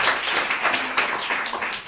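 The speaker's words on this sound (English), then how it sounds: "I'd like to request a round of applause for Markus." A conference audience applauding for Markus, a short burst of dense, steady clapping from a room of people, fairly close and without talk.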